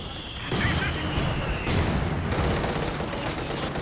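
Ostheer mortar and battlefield fire in a Company of Heroes 2 match, a dense burst of booming shots and rattling gunfire around half a second in, continuing as a noisy rumble, with commentary voices mixed in.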